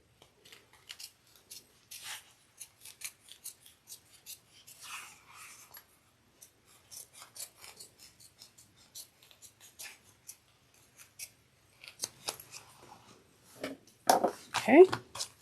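Scissors snip and trim fabric around a clipped corner while sewing a fold-over cross-body bag, a scattered run of small close cuts and rustles that quicken into louder snips near the end.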